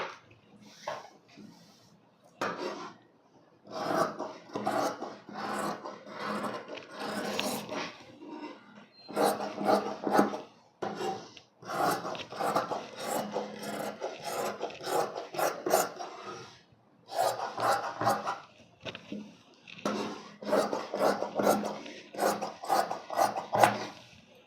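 Scissors cutting through blouse fabric, close rasping snips in uneven bursts separated by short pauses, repeating steadily throughout with no talking.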